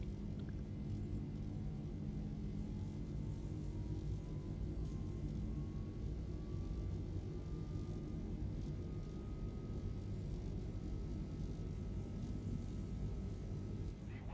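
Steady, loud roar of a Boeing C-40 jet on its takeoff roll in the X-Plane 11 flight simulator, with a faint engine whine rising slowly in pitch as the aircraft accelerates in a crosswind, continuous throughout with no talking.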